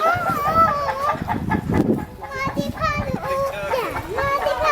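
Chickens at an animal sanctuary clucking and crowing up close, a steady run of warbling calls mixed with children's and adults' voices talking over them.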